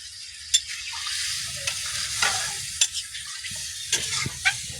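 Okra and potato curry in a pan just after water is added, a soft continuous sizzle and bubbling with occasional sharp clicks and stirring taps, quiet and close, with no voices.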